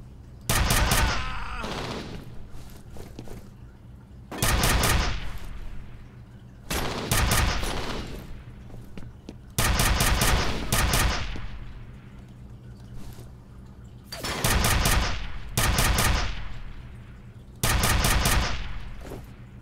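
Bursts of automatic gunfire from a gun in the shooter game F.E.A.R.: about seven loud, rapid volleys of a second or two each, separated by brief pauses, close and dominant.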